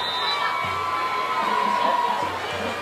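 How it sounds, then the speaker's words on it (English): Home fans at a night high school football game between Rolling Meadows and Fremd, a loud, sustained roar of cheering and shouting from the stands, with a commentator's voice faintly underneath. "The Fremd fans with more to cheer about here tonight."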